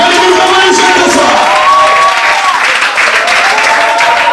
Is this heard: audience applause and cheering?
yes